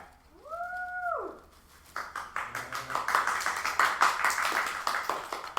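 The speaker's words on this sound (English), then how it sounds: "Everybody give Nick a great big round of applause." An audience applauds a magic trick in which tissue paper became a wizard's hat; a brief whistling, rising-and-falling cry comes first, then dense, steady clapping builds and carries on loudly.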